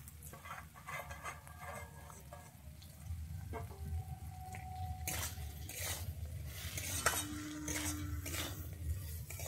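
Fried semolina is stirred in a pan with a utensil, giving soft sizzling under repeated scrapes and light metallic clinks that come and go at an uneven pace, close by.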